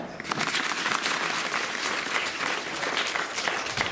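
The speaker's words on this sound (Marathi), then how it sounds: "मग जोरात टाळ्या" Villagers at a gathering in Antarwali Bu. break into loud, sustained applause, a dense crowd of clapping hands filling the space evenly from start to finish with no speech.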